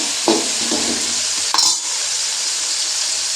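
Tomatoes frying in a pan give a steady sizzling hiss, broken by a few scraping stirs of a spatula near the start and middle.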